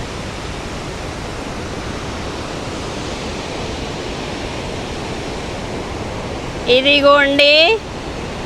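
Victoria Falls in Zimbabwe, one of the world's largest waterfalls, gives a steady, dense roar of falling water that fills the whole stretch, with a person speaking briefly over it near the end.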